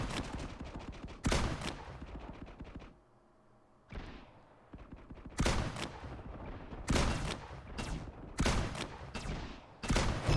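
Gunfire in the mobile shooter FRAG Pro Shooter comes in loud, sharp bursts, with several rapid volleys and single heavy shots separated by short quieter gaps.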